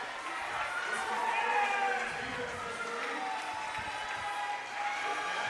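Spectators at the Adaptive CrossFit Games cheering on competitors, a steady moderate crowd roar with scattered shouts and whistle-like cries, heard beneath a commentator's voice.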